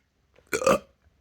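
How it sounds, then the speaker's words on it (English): One short, loud, close burp erupts from a person, brief and throaty, with silence before and after. "I love to burp."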